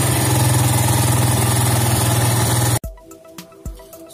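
A Yamaha FZs motorbike engine idles with a steady, throbbing beat for under three seconds, then cuts off abruptly, leaving a few faint clicks and knocks.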